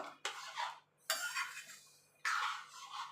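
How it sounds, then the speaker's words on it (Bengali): A spoon stirs vegetarian ghugni with roasted ground spice powder in a pot, three separate bursts of scraping and clinking against the metal, close and fairly quiet, with pauses between strokes and no speech. "ভাজা মশলাটা কিন্তু দিতেই হবে দিয়ে এবার ভালো করে নাড়াচাড়া দিয়ে নেব"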